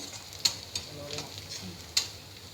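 Onions browning in a pan for an egg and potato curry give a soft, steady sizzle, punctuated by a few sharp clicks of stirring.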